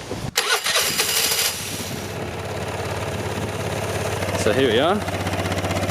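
A cheap motor scooter engine cranks and catches near the start, then settles into a loud, steady idle close by, with a person speaking briefly over it.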